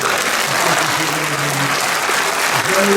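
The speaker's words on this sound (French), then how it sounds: "On peut applaudir Jésus" A church congregation applauds during a French-language sermon, a dense, steady wash of clapping hands filling the room with no break across the whole stretch.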